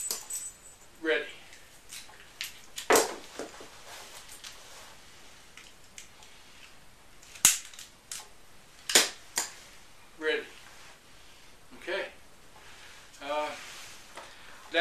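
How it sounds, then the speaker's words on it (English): A handgun is reloaded blindfolded, giving a series of sharp, separate metallic clicks and clacks from magazine and slide handling. The sounds come at irregular intervals across the clip over a quiet background. "That's my exercise in doing a reload blindfolded."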